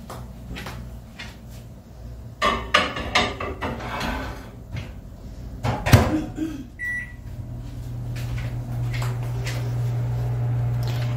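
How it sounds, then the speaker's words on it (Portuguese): Microwave oven running to keep a plated dish of food warm: door and cupboard handling clunks, then a steady low motor hum with a short beep, close and fairly loud. "Vou deixar dentro do micro-ondas para ficar quentinho."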